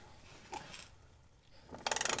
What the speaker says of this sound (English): Again, I got a good 6-point socket on here to break it free.